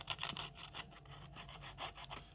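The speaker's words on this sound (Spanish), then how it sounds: "Entonces uno ocupa esta manera de sacarle punta con la lija." Graphite pencil tip being sharpened on sandpaper for a skull drawing, a close, quiet series of quick rhythmic scraping strokes with no talk.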